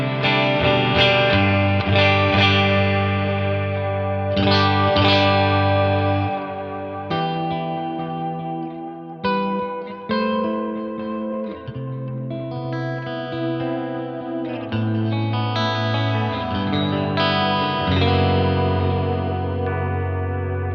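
Mayones electric guitar with a Nail Bomb high-gain pickup pushing the front of an amp, played for about twenty seconds. Distorted chords and notes come with chorus-like shimmer, loud and sustained, with no voice.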